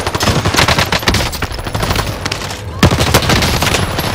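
Rapid automatic gunfire in a Call of Duty Warzone match, dense overlapping bursts of machine-gun shots that stay loud and close for the whole stretch, with a sharper single crack near the end.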